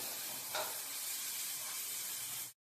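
Green chillies frying in hot oil for Rayalaseema uggani, a bright continuous sizzle and hiss with a brief stir near the start, close and alone until it cuts off abruptly.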